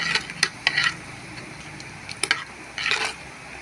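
A spoon scrapes through green gram curry in a pan in a few short, close bursts of stirring, with quiet gaps between and no voices.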